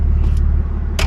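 A 2013 BMW X5 diesel with a freshly replaced starter catches and settles into a loud, steady low rumble close by, with brief higher clatter bursts near the start and end.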